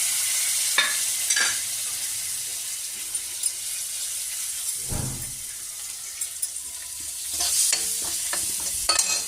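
Whole spices (cloves, cardamom, cinnamon) and curry leaves fry in hot oil with a steady close hiss, a few stirring scrapes and a brief low thump near the middle, no voices.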